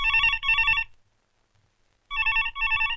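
A telephone rings twice in quick electronic double trills, pauses in silence for about a second, then rings twice again, close and clear.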